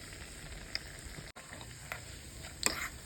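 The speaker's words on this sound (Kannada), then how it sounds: "ಇದು ಕಂದು ಬಣ್ಣ ಬರೋದು ಇದು ಫ್ರೈ ಮಾಡ್ತೀವಿ" Chana dal, urad dal and cashews fry in hot oil, giving a soft, steady sizzle with a few faint stirring clinks and pops near the pan.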